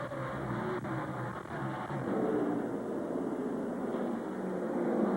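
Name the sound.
NASCAR Craftsman trucks passing at 9,000 RPM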